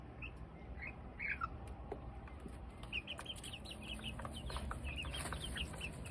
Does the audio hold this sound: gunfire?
no